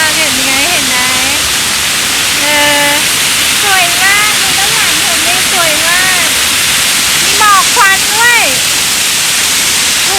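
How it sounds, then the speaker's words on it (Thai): A steady, loud rush of falling water from a waterfall at Wat Sara Loi near Korat, Thailand, fills the whole clip, with a voice rising and falling over it. "ให้เพื่อนๆดูน้ำตกนะ น้ำตกสวยมาก"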